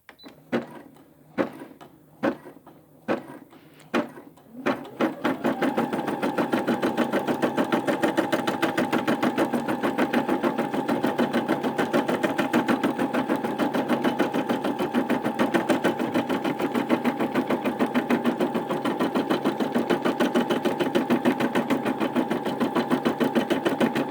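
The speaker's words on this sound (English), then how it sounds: "So we'll go ahead and just let it stitch." A Brother SE600 embroidery machine stitching a quilt, starting with several separate mechanical clunks and then settling into a loud, continuous, rapid needle whir that holds steady for about twenty seconds, with no voices.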